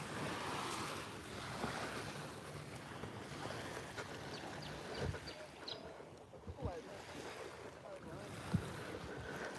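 Waves washing onto a beach on Gili T island, a steady surf wash with wind noise and a few scattered louder knocks, heard without talk.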